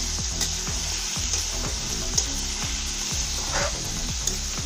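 Pumpkin sabzi roasts in hot oil with a spoonful of salt, a close, steady sizzle and crackle with occasional stirring scrapes and a rhythmic low thudding underneath.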